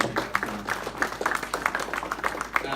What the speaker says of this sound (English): I would like to give another round of applause to Trini, Andreas, and Charlotte from Hudson Recruitment.